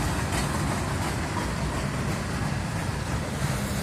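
A freight train rolls past close by, a loud, steady rumble and roar of rail cars that fills the whole few seconds without a break.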